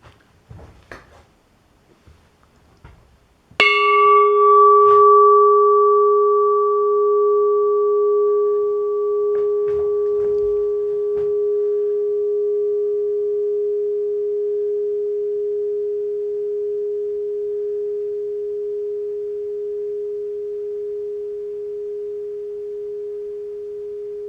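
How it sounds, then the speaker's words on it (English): A bell is struck once after a few quiet handling sounds, giving a loud, clear ding that rings on as a pure, slowly fading tone for about twenty seconds. "now let's give it a ding"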